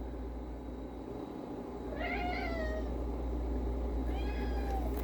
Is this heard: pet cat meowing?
yes